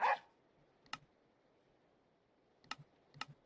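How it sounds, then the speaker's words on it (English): A dog in Minecraft barks in three short, sharp yelps, one near the start and a closer pair near the end, separated by quiet gaps with faint room hiss; a brief click opens the clip. "the dog is starting to get noisy and bark a lot more"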